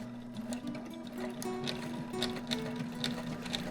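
A sewing machine runs steadily while stitching a bicycle frame bag, producing a quiet, continuous mechanical whir with faint rhythmic needle clicks throughout.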